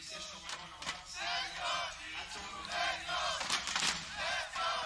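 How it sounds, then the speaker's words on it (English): A large arena crowd at a CS:GO esports semi-final chants in rising, rhythmic waves, heard from a distance as a blended roar with occasional sharper shouts swelling through the hall. "Yeah, the chants are building up."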